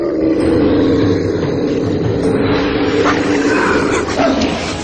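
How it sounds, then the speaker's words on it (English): A large fierce dog portraying Cerberus growls, barks and whimpers in a dense, loud, continuous struggle, with roaring tones and short yelps rising over a heavy rumbling bed. "Hercules wrestles the dog to the ground."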